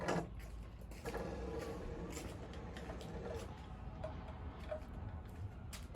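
A pop-up headlight mechanism on a car cycling after a stuck-light repair, a faint whirring motor with small clicks and knocks, quiet and close amid light background noise.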